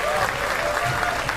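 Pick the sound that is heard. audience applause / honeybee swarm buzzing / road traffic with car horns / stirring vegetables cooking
audience applause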